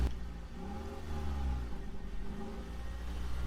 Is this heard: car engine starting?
yes